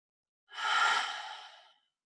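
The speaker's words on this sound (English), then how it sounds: "take a few breaths in through the nose, out through the mouth" A single slow breath lasting just over a second, drawn in and released as a soft, airy sigh, close and clear, during a guided power flow yoga session.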